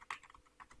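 Someone types on a computer keyboard into a search bar, producing a quick, faint run of several close key clicks with no voices.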